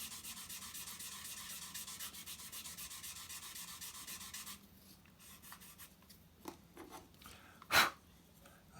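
Close, steady scraping of a fine sanding stick rubbing back and forth on a hard plastic scale model kit part, then quieter scattered scrapes and a sharp click near the end.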